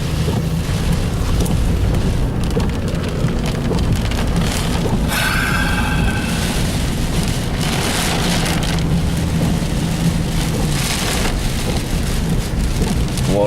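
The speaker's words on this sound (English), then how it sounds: "Water just coming down in sheets" Heavy rain falls in sheets on a street during Hurricane Harvey, a loud, unbroken hiss and drumming that fills the whole stretch with no pause.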